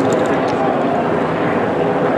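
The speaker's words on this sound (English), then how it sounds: "there's a helicopter up above, which is usually a sign that there's a protest nearby" Steady droning whir of a helicopter overhead above a Seattle protest area on Capitol Hill. It sounds fairly loud and continuous, with a voice speaking over it.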